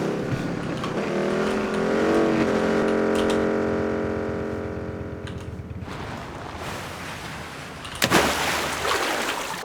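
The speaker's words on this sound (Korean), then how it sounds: "이거 오토바이 시동 끄는 거 소리 좀 신기하지 않아요?" A motorcycle engine drones with a tonal whine, then winds down and cuts out, leaving outdoor rumble and a brief loud clatter near the end.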